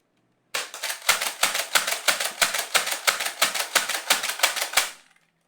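A Nerf Elite 2.0 Echo blaster slam-fires darts from an 11-round magazine, a rapid run of about twenty sharp, evenly spaced mechanical clacks and foam-dart pops, loud and close, lasting roughly four seconds with no talking.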